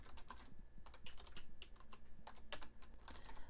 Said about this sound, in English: So I'll type in California, then tab over, and type in Sacramento.